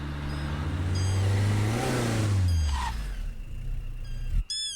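A car engine rumbling and swelling as the vehicle slows and pulls over on a road through monkey-filled jungle, then cutting off abruptly, with faint animal cries around it.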